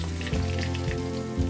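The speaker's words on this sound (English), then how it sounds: "So right now all the brinjals and potato are getting cooked." Stuffed brinjal and potato frying together in a pan, a steady close sizzle with a low continuous hum and no talk.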